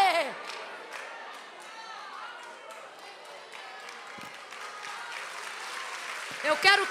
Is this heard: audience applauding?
yes